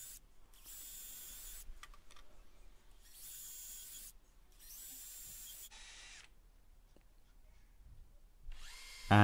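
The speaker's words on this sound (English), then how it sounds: "and I can then drill the pilot holes." Bursts of a power drill whirring pilot holes into scrap wood, several runs of a few seconds each separated by short pauses, close and fairly loud.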